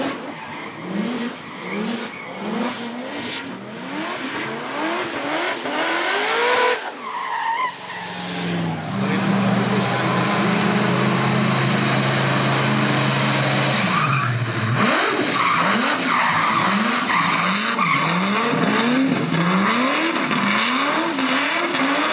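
A race car skids and slides through a squared-off corner on a circuit, its engine revving and wailing in rising and falling sweeps while the tires scrub loudly. The sound is close and sustained, with no talking.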